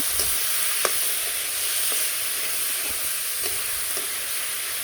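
Fried papaya pieces tipped into a pan of vegetables in oil, giving a loud, steady sizzle with a few clinks of stirring, no voices.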